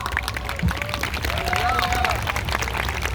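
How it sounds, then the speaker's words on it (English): A crowd at an open mic during a rally against Israeli occupation breaks into applause, a continuous wash of clapping mixed with cheers and voices, moderately loud and steady throughout. "Round of applause."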